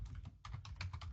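Short burst of typing on a computer keyboard while entering a Linux command, about ten quick, crisp key clicks with a brief pause partway through, close and alone.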